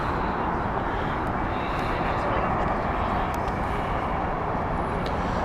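A British Airways Boeing 787 airliner at Heathrow Airport gives off a broad, steady jet roar at moderate distance, a constant wash of engine noise with no clear rise or fade.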